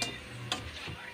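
Mixed vegetables with shrimp paste are stirred in a pan, with a couple of sharp scraping clicks of a utensil over a soft, quiet sizzle, all brief and fairly faint.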